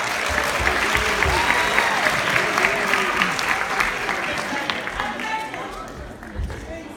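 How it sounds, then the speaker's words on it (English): An audience at a high school ComedySportz improv comedy match claps loudly and steadily, with some voices mixed in, the applause gradually thinning and fading toward the end. "Audience, give yourselves a big round of applause."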